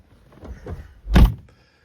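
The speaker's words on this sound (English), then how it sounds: "I'm going to close my door." A Mazda 6 door, which has a keyless entry fault, swings shut from inside the car with one solid, loud thunk, after a few soft rustling movements.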